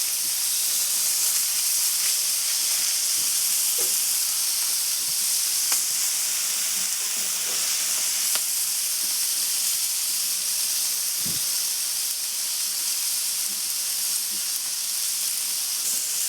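Smash burger patties topped with onion sizzle steadily on a flat griddle, a continuous near hiss and crackle with no talk over it.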